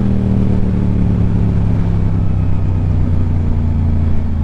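Yamaha R7 motorcycle engine droning loud and steady as it decelerates, a continuous low mechanical hum with no exhaust pops or crackles, no voices.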